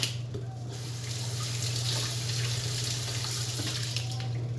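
Tap water runs steadily from a faucet into a sink as hands are rinsed clean of tortilla dough, a continuous close splashing flow with no talk over it.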